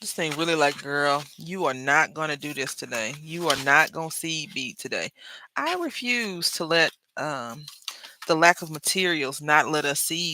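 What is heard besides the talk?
None of the usual background noises is heard.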